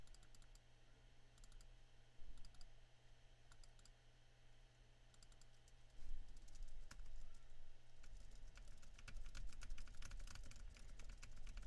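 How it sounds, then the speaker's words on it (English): Typing on a computer keyboard, with steady quiet key clicks in bursts that turn faster and denser toward the end, over a low constant hum. "let's actually type in here for a second."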